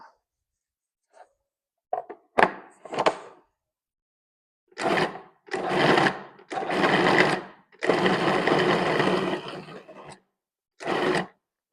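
A food processor pulses pancetta in a series of short mechanical whirring bursts separated by silences, with the later pulses running longer and louder.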